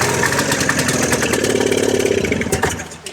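A vintage snowmobile engine after 22 years in storage, fed fuel through the plug holes, catches and runs with a loud, rough, buzzing idle, sputtering and fading slightly near the end.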